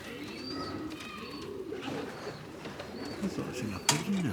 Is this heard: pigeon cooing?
yes